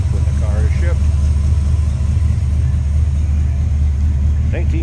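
A 1969 Ford Galaxie XL hardtop fastback idling smoothly, a steady low rumble close by with brief talk over it near the start and end.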